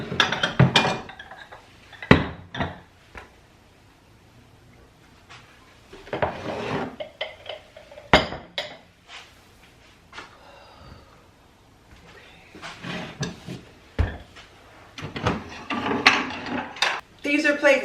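Stacks of dishes, plates and bowls are handled while decluttering a kitchen, with repeated clinks, clatters and knocks of ceramic arriving in irregular bursts separated by quieter pauses.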